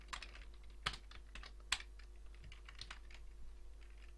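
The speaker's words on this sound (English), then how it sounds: "I can type. I really can type." Clicky keystrokes on a computer keyboard while coding, a loose, irregular run of taps with a few sharper, louder hits, fairly faint against a low steady hum.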